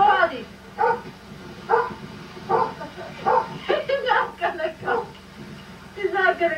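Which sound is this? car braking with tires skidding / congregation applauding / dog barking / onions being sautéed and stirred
dog barking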